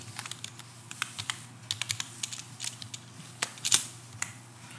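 Close, fast typing on a computer keyboard while entering C program code, a dense run of crisp key clicks in uneven bursts with a sharper strike near the end; no talking.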